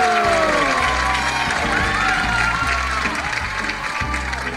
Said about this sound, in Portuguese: Mais palmas pra ela, porque ela merece demais!